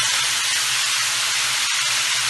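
Potatoes and peas fry in hot oil in a pan for a Hindi/Urdu mixed vegetable dish, giving a steady, loud, broadband sizzling hiss that holds for the whole stretch with no talking.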